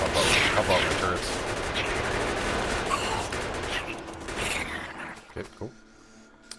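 Factorio gun turrets fire rapid, continuous bursts at enemies, loud and dense at first and then thinning into scattered shots before stopping.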